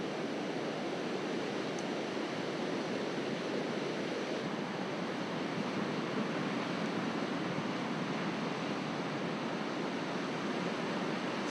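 Ocean swell breaks along the beach beneath steep cliffs on the southern coast of Africa, a constant dense wash of surf that never lets up, heard at moderate level without voices.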